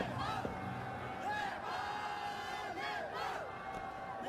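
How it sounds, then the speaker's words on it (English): A large cricket crowd roars and chants for Nepal at a T20 international match, a dense wash of shouting and whooping with rising cries that swell and fade in waves. "This crowd is just pushing this Nepal innings along"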